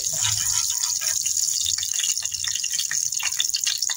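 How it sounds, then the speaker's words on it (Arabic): Half a cup of vinegar poured into a pan of garlic, a steady close liquid splash and trickle with bright hiss, continuous for a few seconds without talk. "هنحط عليها ايه نص كوبايه خل اهي يا حبايبي"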